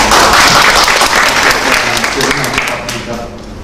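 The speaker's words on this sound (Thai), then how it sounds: "ขอปรบมือให้กับทุกท่าน" A loud, close burst of audience applause at a real estate investment panel discussion, dense at first and then gradually thinning and fading, with a voice speaking over it.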